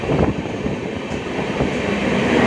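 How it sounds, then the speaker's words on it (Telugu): A MEMU local train running from Yeshwantpur to Kempegowda International Airport rumbles steadily, loud and close, with continuous rail noise and faint clatter of the wheels building slightly toward the end. "మెమో ట్రైన్ ఇది Yesvantpur to Kempegowda international airport."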